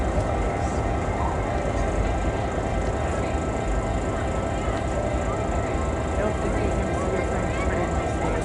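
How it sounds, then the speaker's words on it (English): CP Holiday Train led by CP 2246 rolling past in Wauwatosa, Wisconsin, a steady loud rumble of locomotive and cars sustained throughout, with people talking nearby. "I'm taping that train"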